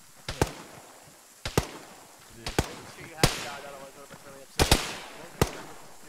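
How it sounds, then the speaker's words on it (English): Gunfire in a military video game: several sharp, loud cracks spaced irregularly, some as quick doubles, with faint radio-like talk and game ambience between shots. "they're shooting over us, jeez."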